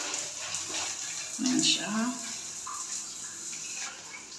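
Water runs from a hotel shower head as a steady hiss, with a voice speaking briefly over the flow.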